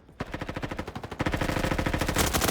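Rapid automatic gunfire from a teammate's weapon in the Roblox game, loud and close, with a quick burst followed by a denser, continuous stream of shots.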